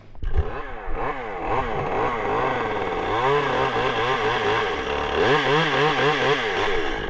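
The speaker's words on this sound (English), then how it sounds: "So we're gonna move on to cutting the tree down in the backyard and getting that all done." A chainsaw cuts down a backyard tree, revving loudly and close in repeated rising and falling bursts with short dips toward idle between cuts.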